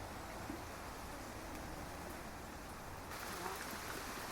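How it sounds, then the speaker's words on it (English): Steady rain falls by a river on a grey September day, a dense even hiss of drops on surfaces, faint and continuous, with the patter thickening slightly toward the end. "The rain gets heavier."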